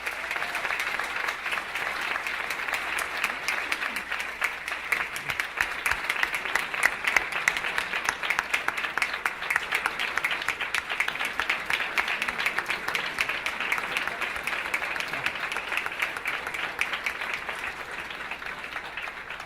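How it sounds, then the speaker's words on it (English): Sustained audience applause at a charity gala dinner, a dense, steady roar of many hands clapping that carries on evenly for the whole stretch, with no voices on top. "Let's give them a round of applause in our support."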